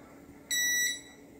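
A multimeter gives one short continuity beep, a bright electronic tone of about a third of a second, while the backlight LEDs of a Philco PH40U16DSG TV are tested. It sounds close and clear over quiet room noise.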